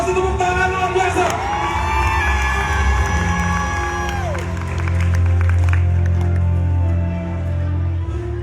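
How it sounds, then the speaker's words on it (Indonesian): Loud audience applause and cheering at a national leadership seminar, with a crowd clapping, whooping and shouting together, sustained throughout with strong swells. "Yang setuju kasih tepuk tangan luar biasa."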